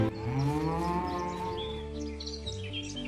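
A cow gives a long, loud, near moo that slides in pitch and fades out, with faint birdsong behind it and no talk.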